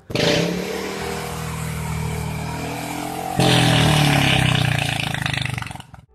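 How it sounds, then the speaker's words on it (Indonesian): A scooter with a loud aftermarket bucket-style exhaust revs up close, holding a rough, blatty drone, then jumping louder midway before cutting off abruptly. "Motor metik berknalpot ember emang ngeselin, apalagi kalau mereka gerombolan."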